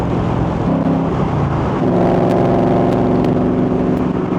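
A Ford Coyote V8 in a 1965-style Backdraft Racing RT4B roadster revs up loudly and close by, the deep roar climbing in pitch as it accelerates hard after a brief lower-gear growl.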